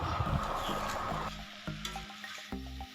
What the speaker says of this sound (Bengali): ভালোভাবে একটু নেড়ে নেব।